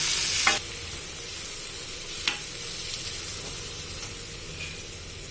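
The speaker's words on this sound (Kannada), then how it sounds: "This has been frying for a while, and now this cooked beans, dal and the greens will be added." Cooked beans, dal and greens fry in a pan for a greens palya, a soft steady sizzle running throughout, broken by a few sharp spatula scrapes and clinks against the pan, up close.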